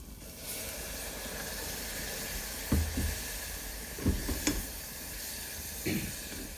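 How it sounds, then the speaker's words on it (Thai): Water poured into a hot pan of cooking pork gives a steady, faint hiss and sizzle throughout, broken by a few soft clanks of a utensil against the pan. "ใส่น้ำลงไปนะครับผม"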